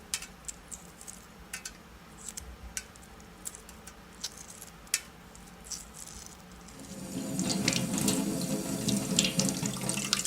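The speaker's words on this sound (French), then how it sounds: "Cette opération peut éventuellement se faire sous un filet d'eau froide." Cold tap water runs into a kitchen sink while a boiled egg is peeled under it, soft clicks and taps of shell for the first seconds before the stream swells into a steady, close, broadband splash.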